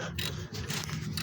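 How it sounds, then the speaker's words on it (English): A socket wrench loosening wheel hub bolts on a Dodge Stratus or Chrysler Sebring, a close run of rapid ratcheting clicks repeating in short bursts. "Get my socket in there. Get them nice and loose."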